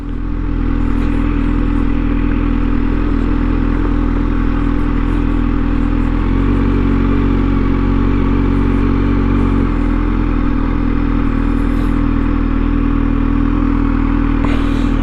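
A Kawasaki ZH2 SE motorcycle rides over dirt, its engine droning loud and steady close by, shifting pitch slightly partway through amid rattling clatter, with no voices.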